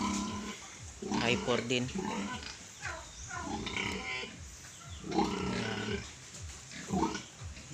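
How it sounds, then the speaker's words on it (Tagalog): Pigs on a rural Philippine farm grunt in short bursts throughout, mixed with someone speaking over them; the animal noises come close and fairly loud. "So meron silang baboy dito."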